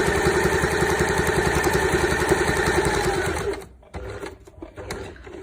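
Sewing machine stitching zigzag on a 3D pillow, a fast, even mechanical whirr running loud and steady for several seconds before stopping abruptly, followed by a few quiet handling clicks.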